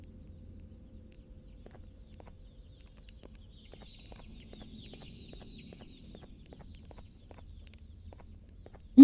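The Opila bird in the horror game Garten of Banban 2 clucks in a steady run of short, evenly spaced clucks, fairly quiet against a low background rumble.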